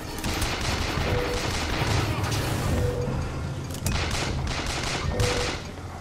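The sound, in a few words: gunfire in video game Bioshock Infinite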